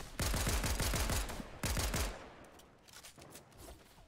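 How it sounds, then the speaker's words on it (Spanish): Rapid bursts of automatic gunfire in the video game Fortnite, two loud close volleys of repeated shots followed by fainter, more distant firing. "he escuchado un disparo que no era de bot"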